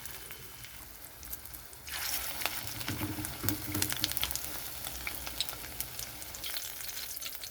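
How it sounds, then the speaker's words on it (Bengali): Small shrimp chops drop one by one into hot mustard oil in a frying pan, a quiet start bursting into loud, close sizzling with sharp pops and crackles that carry on steadily, with no talk. "এখানে আমি চপগুলো ভাজার জন্য ছেড়ে দিচ্ছি।"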